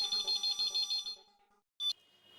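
A telephone ringing at an electronics shop, a bright electronic ringtone pulsing in rapid repeated bursts before stopping, followed by one short burst, close and clear.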